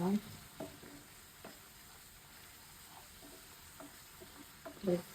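Spices sautéing in a pan for a yogurt hilsa curry with coriander leaves, soft sizzling under faint stirring scrapes, with a couple of louder clanks at the start and end.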